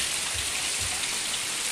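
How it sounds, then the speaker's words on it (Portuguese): Heavy downpour of rain outdoors, a dense steady hiss drumming on surfaces throughout, with no talking. "Chuva muito forte, ó."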